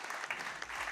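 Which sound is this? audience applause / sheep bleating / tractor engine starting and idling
audience applause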